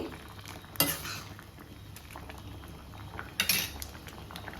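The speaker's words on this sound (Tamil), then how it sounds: "சாம்பார் வந்து நல்லா கொதிச்சிக்கிட்டு இருக்கு" Sambar simmering in a pot with cooked vegetables, a steady low bubbling bed with two sharp metallic clinks of a utensil against the vessel, close and moderately loud.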